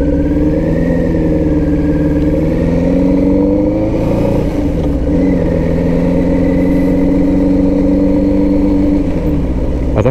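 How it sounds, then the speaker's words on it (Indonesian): A motorcycle engine hums steadily while riding on a road, captured from a microphone inside a helmet with the visor closed, the loud drone shifting pitch slightly as the rider changes speed, with wind rush underneath. "Adakah bunyi angin dan enjin motor masuk?"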